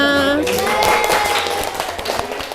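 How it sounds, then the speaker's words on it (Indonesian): A classroom of students bursts into loud, dense applause, continuous clapping close by, following a teacher's voice at the very start. "tepuk tangan untuk semua"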